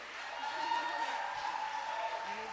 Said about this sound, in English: Can we just have one round of applause, especially for our incredible alto sax player